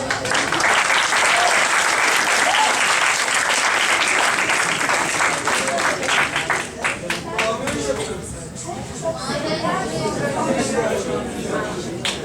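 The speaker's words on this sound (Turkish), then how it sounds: "Hepimiz alkışlıyoruz" A seated audience at a career talk breaks into sustained, dense applause that stays loud throughout, with scattered voices mixed into the clapping.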